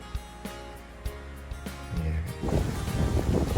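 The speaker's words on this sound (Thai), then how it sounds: "ลมโชยสุดยอดเลยครับ" Breeze blowing across a campsite beside a natural stream in a valley, a steady airy rush with soft gusts that grow louder and rougher toward the end, with a few light knocks early on.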